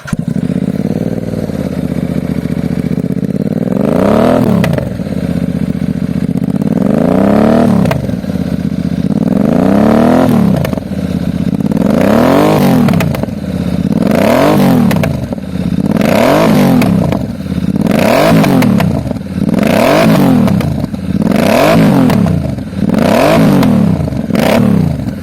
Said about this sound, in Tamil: ஸோ அந்த எக்ஸாஸ்ட் நோட் உங்களுக்காக GT650 எக்ஸாஸ்ட் வந்து இப்போ நீங்கள் ரசிங்க எப்படி இருக்குன்னு சொல்லிட்டு.